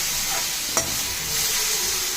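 Onions sautéing in a pan for onion chutney sizzle steadily and close up, with a brief scrape of stirring partway through and no voices.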